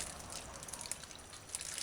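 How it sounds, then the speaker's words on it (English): Water poured onto chicken wings in a bowl, a faint soft trickle and splash running steadily for a couple of seconds, close by. "Let's throw some water."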